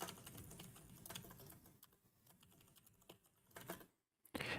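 Keys clatter on a computer keyboard as a password is typed, a quick irregular run of taps that thins out and pauses near the end before a final burst, fairly close and moderately quiet.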